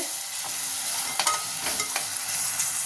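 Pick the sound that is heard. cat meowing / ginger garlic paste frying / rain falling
ginger garlic paste frying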